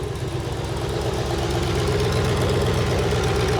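A swapped V8 idles in a Toyota Celica GT-S, a loud, close, steady throbbing rumble with a rhythmic pulse running alone throughout.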